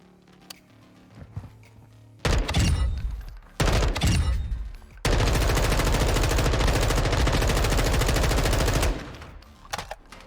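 Automatic gunfire on the Modern Warfare II firing range in a video game, a few short bursts followed by a long sustained volley of rapid shots, loud and close with no talking.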